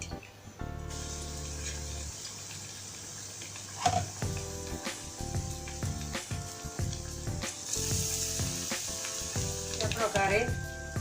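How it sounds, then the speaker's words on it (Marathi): Batter-dipped bread pakoras frying in hot oil, a steady crackling sizzle with occasional utensil clinks and stirring sounds, close and moderately quiet, with faint background tones. "त्या प्रकारे मी या पकोड्यांना तळून घेते"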